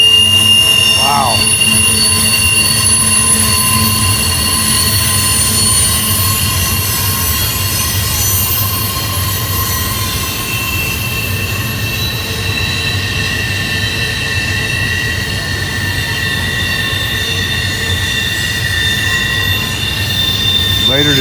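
Freight train wheels squeal loudly and steadily through Horseshoe Curve, a sustained high metallic singing over a continuous low rumble of passing railcars, with a few brief words spoken.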